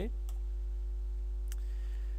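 Computer mouse clicks while opening the Windows services window, two brief sharp clicks standing apart over a steady low hum, with faint room noise between them.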